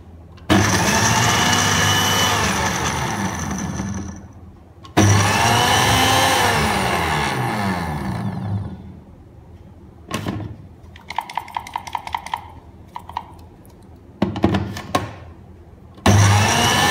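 An electric grinder whirring through chili, onion and curry leaves for Sri Lankan coconut sambol, two long loud grinding runs up close, then shorter stop-start bursts and rattling before a final spin-up.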